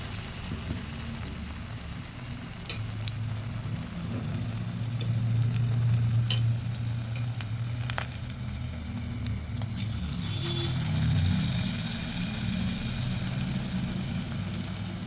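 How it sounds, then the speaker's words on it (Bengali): Bakful (hummingbird tree) flower pakoras frying in hot oil in a wok, giving a steady, close sizzle and bubbling that holds throughout with a low rumbling undertone, no talking. "কড়াইতে তেল দিয়েছি তেলও আমার গরম হয়ে গেছে আর এখানে আমার আগেও কিছু পকোড়া ভেজেছিলাম"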